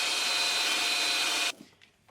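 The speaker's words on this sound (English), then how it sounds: "I have a piece of red oak here, and I'm going to drill a hole in it." A Hoto electric drill bores a hole in a piece of red oak, a loud steady whine with grinding for about a second and a half before it stops abruptly into near silence.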